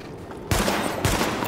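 Sidearm pistol gunfire in the video game Tom Clancy's The Division during a weapon test at highlighted targets, a loud burst of shots starting abruptly midway and continuing in a dense, sustained rattle.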